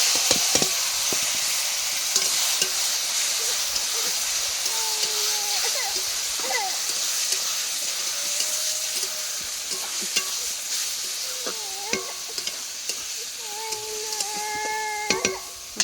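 Spinach, radish and potato sizzle and crackle in hot oil in a wok alongside fried onions, with steady frying noise, frequent stirring scrapes, and a voice talking over it at times.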